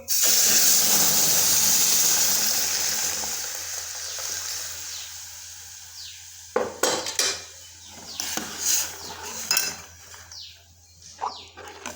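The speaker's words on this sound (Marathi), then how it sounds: "रवा भाजल्यानंतर आपण दूध गरम आहे ते टाकून घेऊ" Hot milk is poured into roasted semolina in a hot pan, giving a loud hissing sizzle that gradually dies down, followed by scattered clinks and scrapes of a spoon stirring against the pan.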